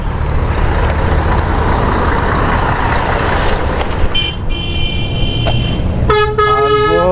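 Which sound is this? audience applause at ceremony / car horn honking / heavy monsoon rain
car horn honking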